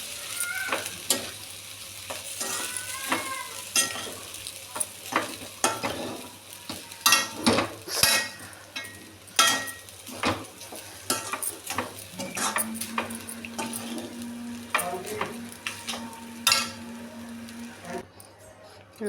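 Mango pulihora (tamarind-style rice) is stir-fried in a hot pan, a soft sizzle running under repeated scrapes and clinks of a spoon against the pan, with a brief low hum near the end.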